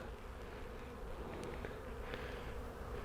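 Robber bees fly in erratic paths around a beehive after a hard freeze, a steady close buzzing drone with brief louder passes, no voices.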